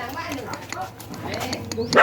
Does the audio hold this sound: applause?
no